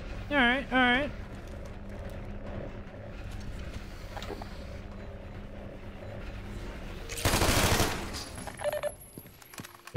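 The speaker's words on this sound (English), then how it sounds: "See, I like shooting crates, dude." Gunfire from a weapon shooting crates in the video game Half-Life 2 comes as a dense, loud burst of rapid shots near the end, after a brief voice and quieter game ambience.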